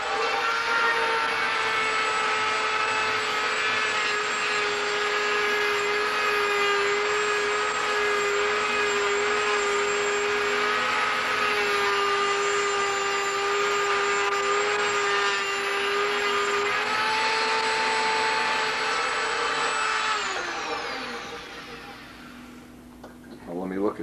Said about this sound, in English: Now once I get the rough cuts on there, I like to get the Dremel sanding drum.